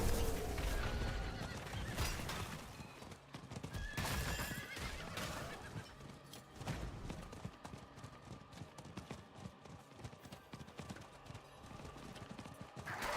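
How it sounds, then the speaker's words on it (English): A horse neighs and its hooves clip-clop in the video game Diablo IV, with steady hoofbeats running throughout under busy game sound and a whinny standing out. "You killed my horse."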